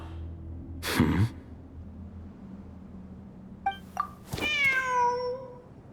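Cat meowing in a video game, with a sharp thud or clink near the start, then a couple of short chirps and one long drawn-out meow near the end, fairly close and clear.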